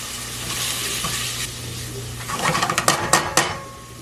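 Onion sautés in olive oil in a pan. A soft, steady sizzle runs throughout, and a few sharp metallic clinks of utensil against pan come near the end.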